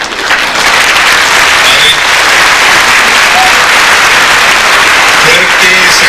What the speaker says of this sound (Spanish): fuerte ese aplauso para este ungido de Dios